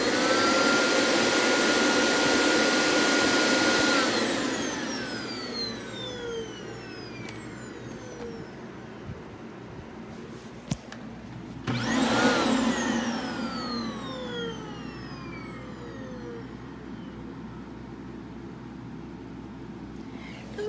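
A Dyson DC25 upright vacuum cleaner fitted with a replacement motor whines loudly, winds down with a falling pitch, then spins back up to a high rising whine and settles into a steadier hum.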